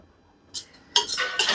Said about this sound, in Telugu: ఇట్లా ఈ మ్యాంగో పేస్ట్ అండ్ ఉప్పు ఇలా కలిపేసుకోవాలండి.